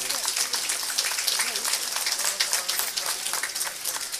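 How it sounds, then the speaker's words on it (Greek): An audience claps steadily at an award ceremony for Cretan artists, a dense continuous round of applause that carries through the whole stretch without a pause. "Ένα χειροκρότημα για την Τασούλα."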